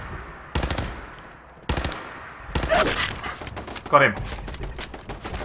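Automated turret firing in Fallout 4, rapid bursts of machine-gun shots in several volleys, loud and close, with a player's brief spoken reaction and other game noise between bursts.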